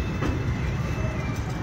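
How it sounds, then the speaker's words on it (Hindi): Metro train running over a bridge near Lonavala, heard as a steady, loud low rumble of rolling wheels and carriages with faint rhythmic clatter throughout. "मेट्रो जा रहा है"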